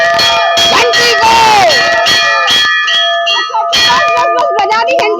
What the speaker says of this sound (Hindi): बस बजा दी घंटी।